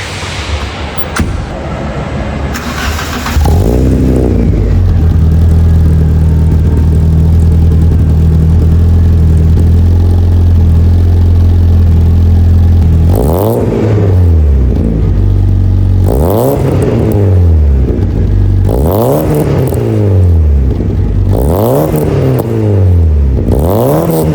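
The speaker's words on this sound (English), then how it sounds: "let's listen to how this VW Mk1 sounds with a power flow exhaust" A VW Mk1 with a 1.4-liter four-cylinder engine and Powerflow performance exhaust idles with a throaty, rumbling exhaust, then is revved repeatedly in sharp, rising and falling bursts, loud and close.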